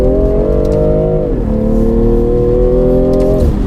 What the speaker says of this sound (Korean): 배기음이 멋집니다.